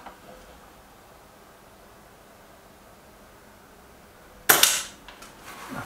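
One sharp, loud crack from an air rifle, either a Kral Puncher Maxi or a Reximex Pretensis, fired at a target. It breaks a long quiet stretch near the end and is followed by a brief ringing decay.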